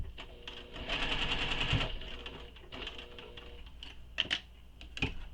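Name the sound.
sewing machine stitching a pocket seam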